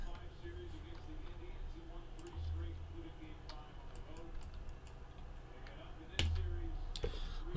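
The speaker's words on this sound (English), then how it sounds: "let's type all of these hits in" Typing on a computer keyboard to log baseball card hits, a string of soft close clicks and taps in uneven bursts, with someone talking over them at times.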